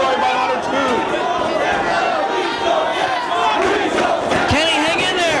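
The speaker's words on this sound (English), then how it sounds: "Crowd chanting, please don't tap. Other fans chanting tap." Dense wrestling crowd at a Ring of Honor event chanting loudly and steadily, voices overlapping in rhythmic calls that fill the whole stretch.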